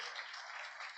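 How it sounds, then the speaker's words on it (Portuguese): A church congregation applauds during a service, producing a brief, steady wash of clapping that sounds faint and distant. "aplauda bem forte o nome do Senhor"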